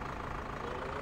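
Tractor engine idling in Farming Simulator 2015, a steady, even mid-low rumble that holds constant through a brief stretch without talk.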